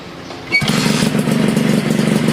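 A Honda Nova Super motorcycle engine fires up after a brief starter crank, then settles into a steady, loud, close idle.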